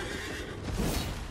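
A horse in Elden Ring lets out a short, rough whinny amid heavy game noise, brief and mid-distance.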